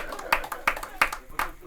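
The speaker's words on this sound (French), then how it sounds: "On continue d'applaudir." Four sharp, evenly spaced claps ring out close by in a studio setting during an anniversary celebration, each one a crisp single hit with short gaps between.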